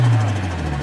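Nissan SR20DET car engine running steadily after an injector problem, a close, loud low idle hum with a slight uneven pulse through a brief moment.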